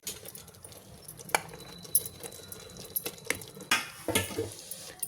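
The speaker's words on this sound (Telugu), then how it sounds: "ఇప్పుడు స్టఫ్ చేసుకున్న బీరకాయ వేసుకుందాం అండి" Stuffed ridge gourd pieces dropped into masala frying in oil, giving soft plops and clatters of a pan and utensil with a low background sizzle, close and moderately quiet, no talking.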